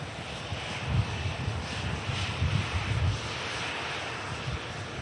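Airbus A330 engines spooling up for takeoff at an airport, a broad steady roar heard from a distance with wind noise over the microphone, holding level throughout without talk.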